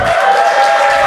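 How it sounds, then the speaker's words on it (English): Comedy club audience applauding during a stand-up set, a steady, dense wash of clapping that holds loud and even for the whole moment with no voices over it. "Feels weird for you to clap at that"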